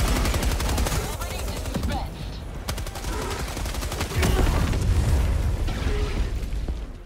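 In Helldivers 2, an orbital strike bombardment pounds the area with a dense, loud barrage of blasts and rapid gunfire, continuous booming and crackling that covers the whole stretch, with a voice faintly audible underneath.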